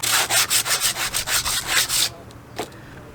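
A loose piece of sandpaper is rubbed by hand over a surface during a Sprinter van build. About ten steady back-and-forth strokes sound close, loud and gritty, and then they stop, leaving one faint knock.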